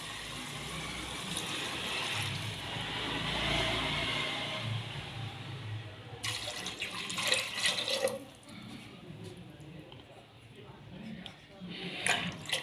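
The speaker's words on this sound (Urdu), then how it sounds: "اور پانی شامل کرتے ہیں اس میں۔" Water poured into a cooking pot holding black chickpeas and green chillies for pulao, a steady broadband splashing stream for several seconds, then irregular clinks and handling noises near the microphone, with no voices.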